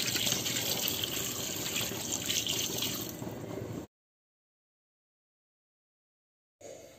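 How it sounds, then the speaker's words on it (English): Water poured from a kettle into a pot of Nigerian egusi soup, a steady close gushing splash for about four seconds, then silence, with the pour briefly resuming at the end. "I'm going to add half kettle of water"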